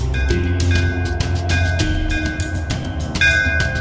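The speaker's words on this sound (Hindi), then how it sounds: "चला घंटी बजा दे, ये बजा दे बजा दे बजा दे" A bell rung repeatedly in a rural Chhattisgarhi setting during a horror film, with a steady ringing tone and clanging strikes recurring several times over a low background rumble, loud and close.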